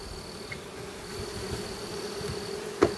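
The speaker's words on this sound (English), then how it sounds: "Bees are all nicely clustered in there." Honeybees clustered inside an opened hive box after swarming hum with a steady, soft, low drone throughout, with a brief sharp knock near the end.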